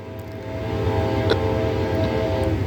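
A train rumbles past nearby at steady volume, its low drone continuous, with a brief horn-like tonal burst partway through.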